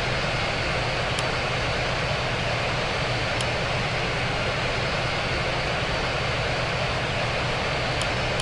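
An Airbus A350-1000 jet on a test flight departing Heathrow's runway 27 right, a loud steady engine roar with broad rumbling noise holding constant throughout, no voices heard.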